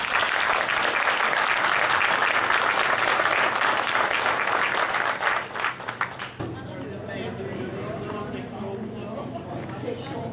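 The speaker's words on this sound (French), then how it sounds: "une belle grande main d'applaudissements pour votre courage" Audience applause at a conference on adoption, loud sustained clapping for about six seconds that then stops abruptly, leaving quieter room sound and murmuring.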